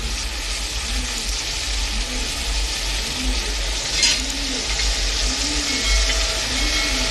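Tomatoes cooking in a pan for Ratlami sev turiya shaak, a loud steady frying sizzle with a faint repeating swish of stirring about once a second.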